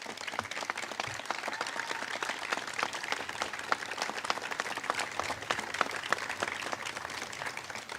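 A crowd gathered outdoors at a state park reopening claps for the park staff, sustained dense applause at a modest level from a distance, with a few low thumps early on and no voices over it.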